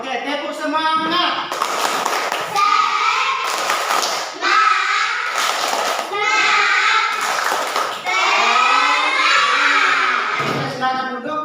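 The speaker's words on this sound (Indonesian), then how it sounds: "tepuk semangat" A group of children performs a rhythmic spirit clap, patterned hand claps mixed with loud chanting voices in a classroom-like room, in repeated bursts.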